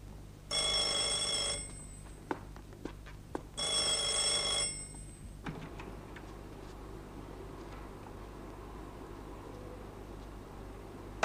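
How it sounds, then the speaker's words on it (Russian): An old telephone bell in a 1982 Soviet comedy film rings twice in long loud bursts separated by a short gap, followed by faint room tone and a few clicks. "Телефон."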